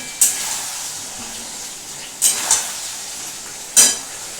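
Masala for a katla fish curry with potatoes being stirred as it fries in a pan, a soft low sizzle broken by four sharp metallic scrapes of the spatula against the pan, close by, no talking.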